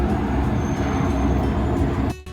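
A tram passing by on a street in Nice, France, a loud continuous rumbling roar heard from a balcony, holding steady and then dropping away abruptly near the end.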